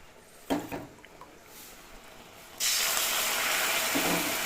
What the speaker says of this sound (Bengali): ভাজা হয়ে গেছে, এখন আমি গরম জল দেবো